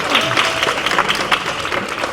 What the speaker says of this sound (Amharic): አዶናይ ከወደዳችሁ ተነስታችሁ አጨብጭቡ።